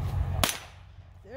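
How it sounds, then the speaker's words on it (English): A single sharp gunshot cracks at a pumpkin target outdoors, sudden and loud, then its report decays over a low background rumble, with a faint voice starting at the end. "What are you shooting, Robin?"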